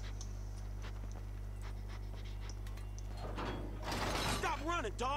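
Rapid dog panting with scuffling movement in Grand Theft Auto 5, rising louder near the end over a steady low hum, with someone speaking at the close.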